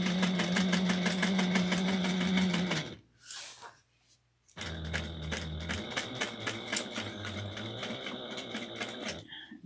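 A sewing machine stitches bar tacks in rapid, rhythmic bursts of needle strokes. It pauses briefly midway with a few faint handling sounds, then resumes its steady clatter.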